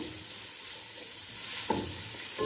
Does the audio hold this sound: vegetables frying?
yes